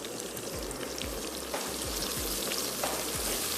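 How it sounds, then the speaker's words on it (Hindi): Onions fry in hot oil with whole spices such as black and green cardamom, cinnamon, cloves, bay leaf and cumin for mutton biryani, a steady crackling sizzle with occasional stirring scrapes, close and moderately quiet, without talking. "प्याज अच्छी सी फ्राई होगी"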